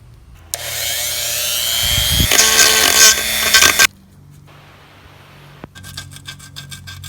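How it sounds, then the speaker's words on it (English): Wrinkle-painted valve cover from a Honda Civic EG being sanded, a loud continuous rasping scrub that builds and sustains for a few seconds, stops abruptly, then resumes more faintly. "It does take a minute to sand that down"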